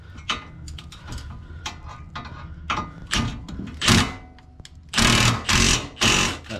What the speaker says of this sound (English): I'll tighten up on that side.